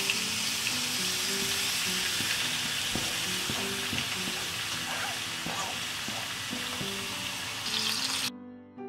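Chopped tomatoes hit hot garlic oil in a pan, giving a steady loud sizzle throughout with soft background music and a few clinks, then cutting off abruptly near the end.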